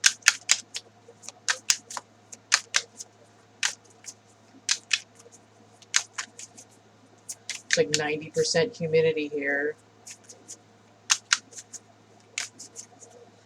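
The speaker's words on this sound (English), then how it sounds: "apparently I'm just shuffling these for like an hour" Crisp, rapid clicking and flicking of stiff tarot cards being shuffled in bursts, with a short stretch of talking in the middle.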